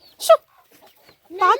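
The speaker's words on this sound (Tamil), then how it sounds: "இப்போ நெல் சாப்பிட்றது எவ்வளோ கோழி வந்திருக்கு" Hens feeding on paddy grain cluck in two short bursts separated by a quiet pause, fairly close by.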